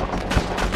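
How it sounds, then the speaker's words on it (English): Police gunfire in GTA Online, a short burst of several close, loud shots fired in quick succession. "they started randomly shooting everywhere"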